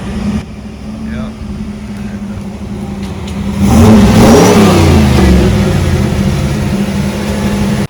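A car pulls up nearby, its engine swelling into a loud rev midway through after a steady idle-like drone, with a voice speaking over it.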